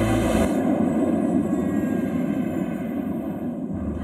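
A steady, loud engine drone and cabin rumble come from a large charter plane that has just landed in Cleveland, continuing evenly without pause.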